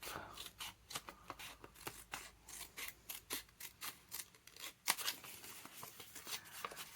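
Scissors snip through paper to cut a small triangle for a junk journal, giving a quick series of close, crisp, rhythmic cuts with light rustling in between, fairly quiet overall.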